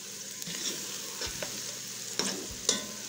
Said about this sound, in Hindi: इस तरह इसको हम 2 से 3 मिनट के लिए फ्राई कर लेंगे